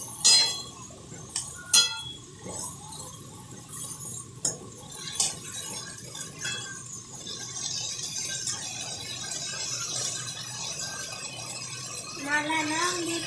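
A spoon stirs fenugreek leaf curry (methi bhaji) in a pan over a gas flame, with rattling metal clinks and scraping, sharpest at first and then settling into a steadier sizzle and stir, with a voice faintly present.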